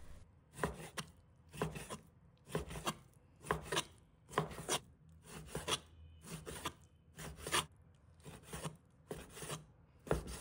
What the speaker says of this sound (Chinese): 把它切成片，在切之前，最好把五花肉冻半个小时左右，这样有点硬就好切了。